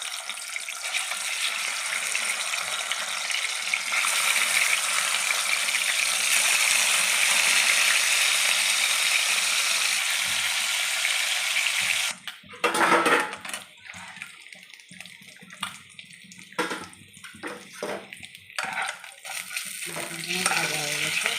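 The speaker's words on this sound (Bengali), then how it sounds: "তেল গরম হয়ে গেছে, মাছগুলো ভাজার জন্য আমি দিয়ে দিচ্ছি।" Katla fish pieces sizzle steadily in hot oil in a kadai, a loud continuous hiss for several seconds, followed by intermittent scraping and clattering of a utensil over the softer frying.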